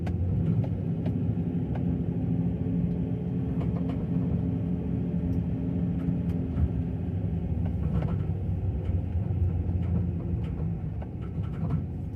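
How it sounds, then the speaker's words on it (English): A big Ford Excursion SUV passes near a historic cemetery, a steady low engine and tyre rumble lasting throughout and easing slightly at the end. "Must be a big old Ford Excursion."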